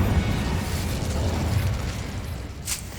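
The Incendio fire spell from Hogwarts Legacy roars as a sustained, low rumbling burst of flame, steady for a few seconds, with a sharp crackling flare near the end.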